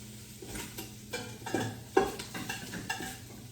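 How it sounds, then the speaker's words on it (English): Ham browning in a pot while being stirred: a steady low sizzle runs throughout, with a spoon scraping and knocking against the pot every half second or so, close and moderately quiet. "I'm going to continue to brown the ham that I have in the pot"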